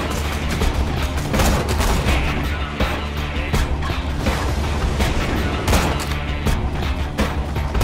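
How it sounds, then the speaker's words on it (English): Grenade explosions in the shooter game Borderlands 2, dense booms and rapid gunfire blasts layered over a constant rumbling battle din, loud and close. "They throwing grenades at us too?"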